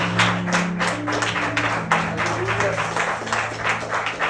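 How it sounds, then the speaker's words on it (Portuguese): A church congregation applauds in a steady, loud wash of clapping, with a low sustained tone underneath and no speech over it. "aplaudindo Jesus bem bonito, bem forte"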